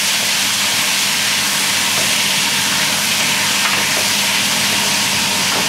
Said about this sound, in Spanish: tengo el aceite bien caliente, con cuidado de no quemaros, voy a echarle la carne, tanto el pollo como la ternera.